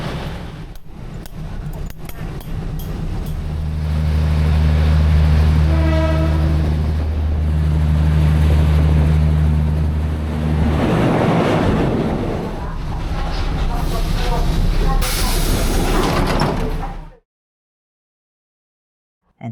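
A local train runs along the rail line toward Talat Phlu station in Bangkok, giving a loud, steady rumble with rattling and clatter for about seventeen seconds before cutting off abruptly.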